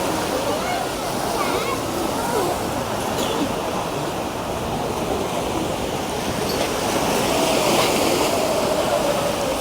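Ocean waves wash onto the beach at La Jolla with the tide in, a constant broad roar of surf heard from a walkway just above the sand, steady and fairly loud with a voice speaking over it.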